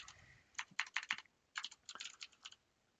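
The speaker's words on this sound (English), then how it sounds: "So let's just type in that first part." Someone types on a computer keyboard in quick, light bursts of clicking keys, fairly quiet, with a short pause midway and no talking.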